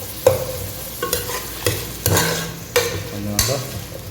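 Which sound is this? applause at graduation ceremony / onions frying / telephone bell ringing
onions frying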